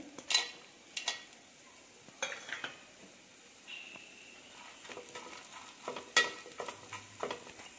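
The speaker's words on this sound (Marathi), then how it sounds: "इथे मी पातेलं चांगलं गरम करून घेतलेलं आहे, त्याच्यात कांदा टाकून घेऊया" Onion sizzling in a hot pot, broken by several sharp clinks and scrapes of a utensil stirring against metal, close and fairly quiet.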